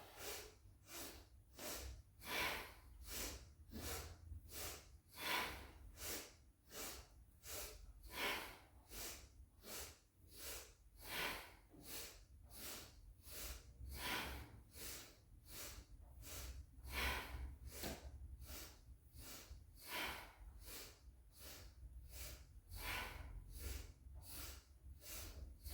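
Rapid, rhythmic breathing through the nose with the mouth closed during a yoga exercise: dozens of short, even, forceful sniffs in a steady pulse, close and fairly quiet, with no talking.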